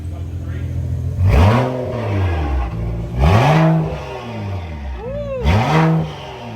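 A BMW 335 fitted with a stage 2 turbo revs up three times in spaced, rising and falling blips, loud and close, with a faint turbo whoosh between pulls.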